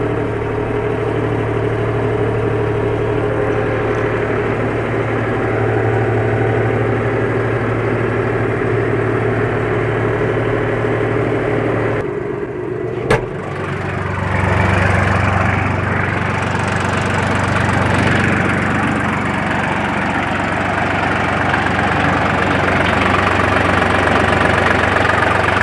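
A John Deere 5080E tractor engine runs loud and steady, close by, while the tractor turns in a tight circle. The drone briefly dips with a sharp click partway through, then resumes without any talk.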